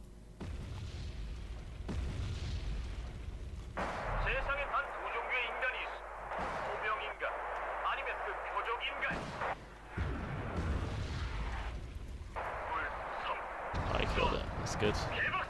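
Artillery and gunfire strike a defensive position in a war video game, a steady barrage of booms and bursts with repeated loud impacts running throughout, layered over continuous background noise and voices.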